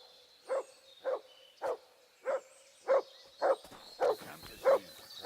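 Mutt, a dog in Kingdom Come: Deliverance 2, gives about nine evenly spaced barks roughly half a second apart, clear and moderately close against a quiet outdoor background.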